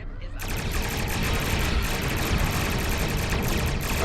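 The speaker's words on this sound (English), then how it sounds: "Oh, those are phaser cannons, aren't they?" Rapid energy weapon fire from phaser cannons during a starship battle in the video game Star Trek Online, a dense, loud continuous barrage of sharp bursts with no talk.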